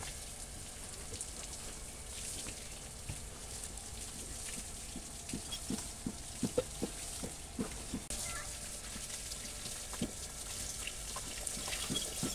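Water splashes and drips as it is poured over a cow to soak and loosen dirt from its body in a village setting, a steady wet patter with scattered louder splashes throughout.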